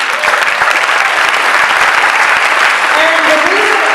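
A large audience breaks into steady, loud applause at a political event with a White House official on stage, the clapping dense and continuous throughout without a break.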